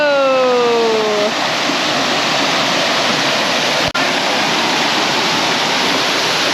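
A waterfall in Georgia roars loud and close, a continuous thick rush of falling water, with a short voiced shout at the start and a single sharp knock partway through.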